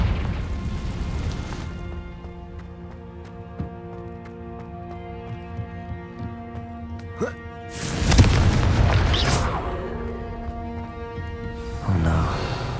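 A Confringo spell explosion in Hogwarts Legacy bursts out as a loud, broad boom about two-thirds through, over a sustained musical game score, with a further swell near the end.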